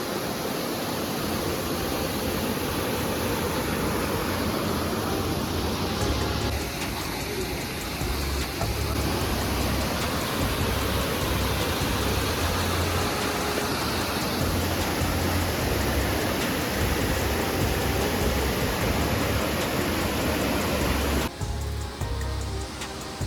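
A waterfall near Bir on the Rajgundha Valley trek roars in a steady, dense wash of rushing water that stays loud and unbroken throughout.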